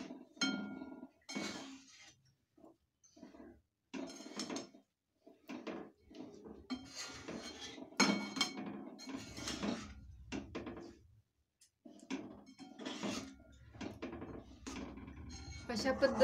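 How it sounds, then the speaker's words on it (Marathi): Peanuts being stirred into hot sugar syrup in a pan for crispy chikki, with intermittent clinks and scrapes of the spoon against the pan and occasional talk between the bursts. "आणि व्यवस्थित मिक्स करायचं आहे पाक आणि शेंगदाणे."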